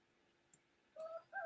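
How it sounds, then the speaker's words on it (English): A rooster crows faintly in the distance, a short strained call rising out of a quiet room. "Oh, did you hear my rooster?"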